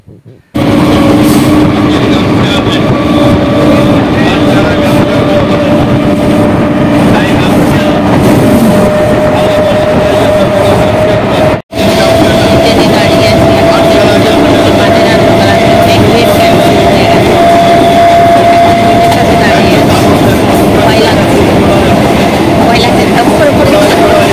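A train runs on rails with a loud, continuous rumble and steady rolling roar, broken by one brief dropout, and a faint tonal whine rising through it.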